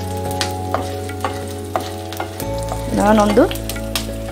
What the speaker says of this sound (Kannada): ಗೋಡಂಬಿ ಇಷ್ಟು ಹಾಕ್ಕೊಂಡು ಸ್ವಲ್ಪ ಫ್ರೈ ಮಾಡ್ಕೊಳ್ಳೋಣ